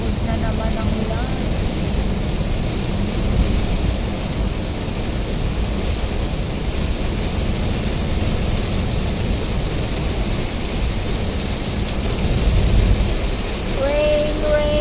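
Heavy rain pours down steadily during a road trip through the Ilocos Region, a dense, constant hiss that fills the whole stretch, with a faint voice near the end.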